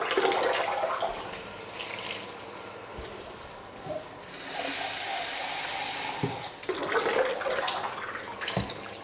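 A canful of water is poured into a pan of tomato sauce made with canned and fresh tomatoes, giving a steady splashing pour of a couple of seconds between clinks and handling noises.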